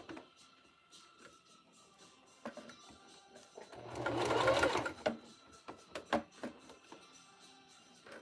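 A sewing machine stitching a Japanese knot bag wristlet runs in a short whirring burst, surrounded by scattered clicks and taps of handling, fairly quiet and close.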